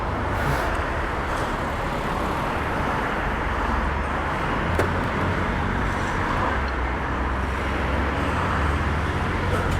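A BMW R1300 GS Adventure motorcycle on a cold Sunday-morning ride, heard as a steady engine drone mixed with road and wind noise, continuous and moderately loud for ten seconds without changing.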